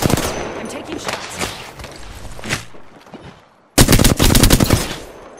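Rapid automatic gunfire from Apex Legends, a loud close burst early on followed by scattered shots, a short lull, then a dense sustained volley of sharp cracks at the end.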